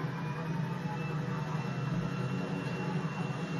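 An airplane in the GTA 5 video game produces a steady, dense jet-engine roar with a constant high whine, unbroken and even in level throughout.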